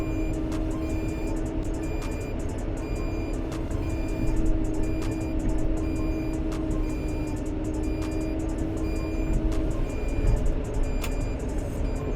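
Regular reversing beeps sound at steady intervals over a loud, constant machine engine drone.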